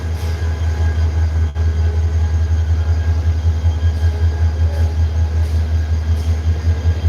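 A passenger train bound for Cox's Bazar after leaving Sylhet railway station rumbles loud and steady from inside the carriage, with a deep continuous drone, faint rattling and one brief sharp click early on.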